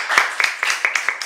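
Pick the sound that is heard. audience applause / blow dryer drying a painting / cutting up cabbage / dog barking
audience applause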